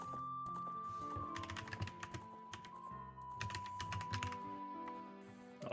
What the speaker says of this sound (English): Oh, so my keyboard's probably loud as hell.